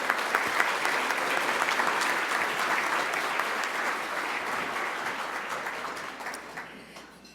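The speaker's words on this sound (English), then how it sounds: "A big round of applause, please," Sustained audience applause at a business excellence awards ceremony for the sponsors, a dense, even wash of many hands clapping that holds for several seconds before fading out at the end.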